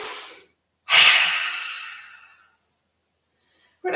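A single forceful breath out during a yoga pose, a loud, close, breathy rush that fades over about a second and a half, preceded by a softer breath and followed by silence.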